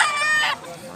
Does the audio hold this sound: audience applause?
no